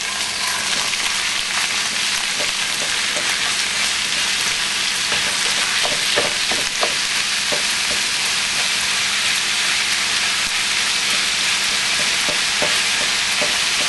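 Pork stir-frying in a pan over medium heat, a steady loud sizzle with scattered crackles and spatter pops running throughout, no voices.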